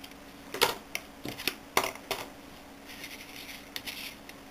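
A Cricut Imagine machine cutting card, a series of sharp mechanical clicks and clacks at irregular intervals over a steady low motor hum, close up and without talk.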